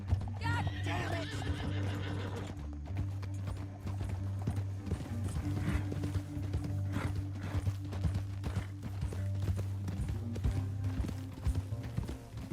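Horses in Red Dead Redemption 2 clip-clop at a run and neigh loudly near the start, hooves pounding steadily over a low rumbling game score throughout.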